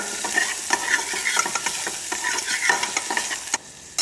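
Onion and garlic sautéing in a pan for minestrone soup, a steady sizzle with repeated sharp stirring scrapes throughout, close and fairly loud, no talk.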